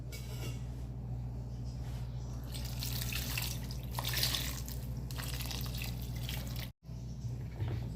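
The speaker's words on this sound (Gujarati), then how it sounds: "હવે પાછું થોડું પાણી નાખવાનું." Water is poured into a pot of undhiyu during cooking, a soft, quiet trickle and splash that runs steadily for several seconds, with a brief break near the end.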